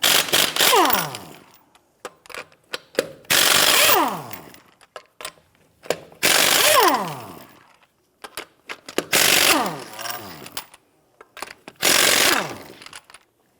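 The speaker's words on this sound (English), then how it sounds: "Use a 21mm socket to go ahead and loosen and remove the lug nuts." A 21mm socket on an impact or ratchet tool loosens and removes lug nuts from a 1992-1996 Toyota Camry wheel, with five loud, separate bursts of whirring mechanical rattling, each about a second long, close by with no talk.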